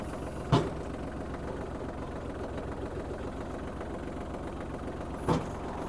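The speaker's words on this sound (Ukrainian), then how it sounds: "Давайте трішки спустимо ковшик" A Kubota GL-25 mini tractor idles steadily while lowering its bucket, with a low continuous engine drone and two brief sharp knocks near the start and end.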